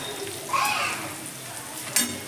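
Sliced ginger stirred gently in a pan of oil over low gas flame, with a soft continuous sizzle and a couple of brief scraping stirs, fairly close.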